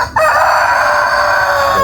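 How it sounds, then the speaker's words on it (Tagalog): A rooster crows loudly and close, one long sustained call, with other chickens faintly around. "Pero kini ato mga manok ipanggutom na man jud kini."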